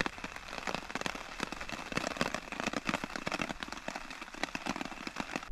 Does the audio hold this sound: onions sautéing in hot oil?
no